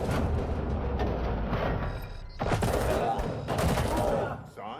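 A gun battle in the video game RoboCop: Rogue City, with dense bursts of rapid automatic fire and louder volleys in the second half amid a muffled game din, and faint voices underneath.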